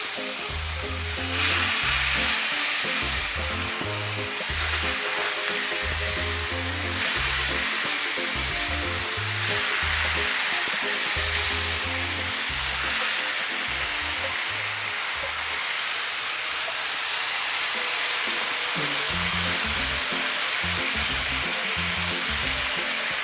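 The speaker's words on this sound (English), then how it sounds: "Hear that sizzle." Jamaican fricassee sizzles and fries loudly in hot oil in a pot, a dense continuous crackling hiss lasting over twenty seconds with steady intensity and no voices.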